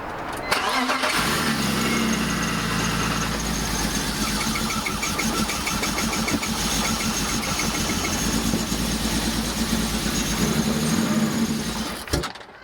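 A BMW E46 with a failing engine cranks and fires, then runs roughly with an uneven, lumpy idle for about eleven seconds before cutting off abruptly; close and loud, with no talk.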